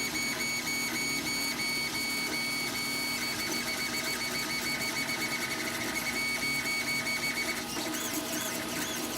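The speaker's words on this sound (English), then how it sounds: "So the reason why it's solid filling the other half is it's almost done printing on that half." A 3D printer lays down honeycomb infill, its stepper motors whirring and chattering steadily and close by, with shifting mechanical tones and no voices throughout.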